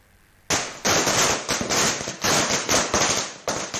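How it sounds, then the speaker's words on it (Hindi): Rapid bursts of Diwali night firecrackers crackle and pop in quick irregular succession, loud and close, with sharp explosive bangs over several seconds. "पाबंदी के बावजूद दिवाली की रात आतिशबाजी होती रही"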